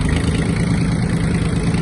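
Kubota B1-17 Japanese mini tractor with four-wheel drive engaged, its engine droning steadily and close as it pulls away in first gear, a continuous low rumble with no voices.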